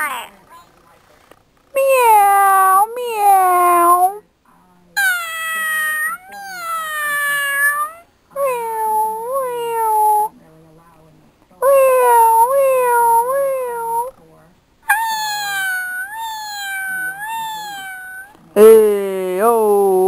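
A cat meows loudly and repeatedly, long drawn-out wails in a steady series with brief gaps, very close.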